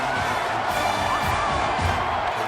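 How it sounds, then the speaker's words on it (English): Stadium crowd in the NCAA 14 football video game roaring and cheering at an Illinois home game against Nebraska after a touchdown, a loud, dense, sustained wash of noise throughout. "And this crowd right now is loud."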